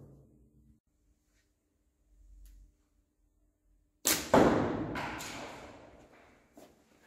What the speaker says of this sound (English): the pellet launched by a slingshot gave an initial velocity of 155 feet per second